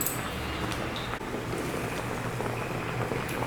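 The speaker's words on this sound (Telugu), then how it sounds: "దీంట్లోనే నెమ్మదిగా ఆ రాగి పిండి అన్నది ఉడుకుతుంది" A pot of ragi flour simmers in boiling water for ragi sangati, giving a steady dense bubbling and hissing with occasional soft pops, close and continuous throughout.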